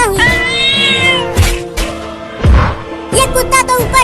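A cat gives several loud, close, drawn-out meows in quick succession, with short pauses between calls.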